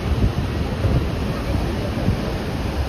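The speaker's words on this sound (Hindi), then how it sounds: "ये देखो कितने स्पीड से पानी आ रहा है ना" The Saraswati river rushes at high speed near Mana village, a loud, continuous close-up roar of turbulent water. Heavy wind buffets the microphone throughout.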